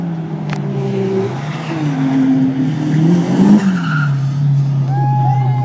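Holden VY SS Commodore rally car on a tarmac stage, engine note rising and falling loudly as tires squeal through a skid, with short high squeals near the end.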